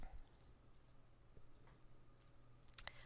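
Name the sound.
mouse click in software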